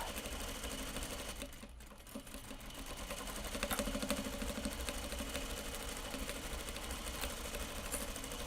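A serger sewing machine stitches grime guards with a steady, fast mechanical whir that holds throughout and gets a bit louder partway through, with no one speaking.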